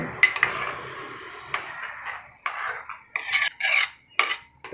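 A spoon clinks and scrapes against a metal pot while stirring yellow pumpkin payasam, in irregular bursts, close and bright, with short pauses between strokes.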